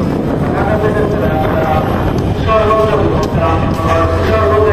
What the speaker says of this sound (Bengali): বাহ, 2টা ট্রেনই ক্রসিং হচ্ছে, কত সুন্দর একটা দৃশ্য।